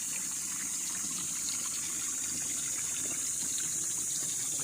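Water from a natural spring beside a river on a farm lot rushes in a steady, even gush, moderately loud and unbroken, with no voices.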